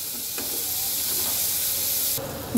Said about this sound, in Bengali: এবার আমি পেঁয়াজটাকে খুব সুন্দর করে ভেজে নেব।